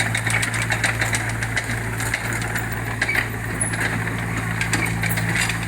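A Hitachi ZX30U mini excavator diesel engine rumbles steadily at close range, a low, throbbing mechanical drone with faint clattering on top.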